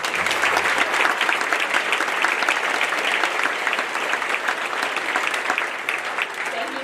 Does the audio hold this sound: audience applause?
yes